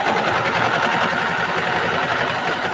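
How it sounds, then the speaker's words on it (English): A sewing machine stitches through many thick layers of a patchwork duffle bag, a close, loud, steady whirring drone with rapid needle chatter running unbroken throughout. "Girl, my sewing machine is loud, huh?"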